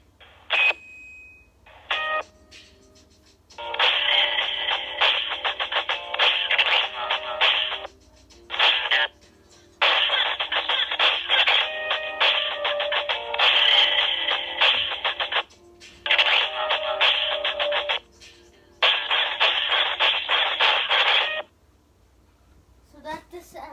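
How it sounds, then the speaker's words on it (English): Walkie-talkie sound from the Friday Night Funkin' video game, loud bursts of crackly static-like chatter in several blocks separated by short silences, up close. "That's the sound of the Friday Night Funkin' walkie-talkies."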